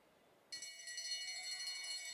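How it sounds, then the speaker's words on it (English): A lap bell rings at a track cycling race, starting abruptly and then ringing continuously as a bright, sustained metallic clang. It sounds somewhat distant and fairly faint, with no voices over it. "There the bell goes."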